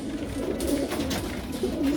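Racing pigeons coo continuously in a loft, a low rolling murmur of several birds layered close together, steady throughout with no talking.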